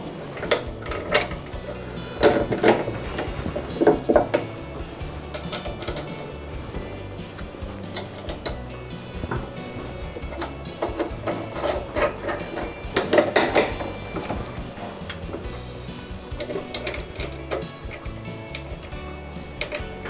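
Small metal parts clink and tick as a flat washer, spring washer and nut are fitted by hand onto a bolt on a Cobra M51SPC lawn mower, with irregular light metallic taps and scrapes close by.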